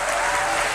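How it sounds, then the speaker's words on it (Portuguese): An audience applauds the team at a church service in Cathedral International, a dense, steady wash of clapping filling the whole moment, with no voices over it. "eu vou pedir a vocês um aplauso a essa equipe linda"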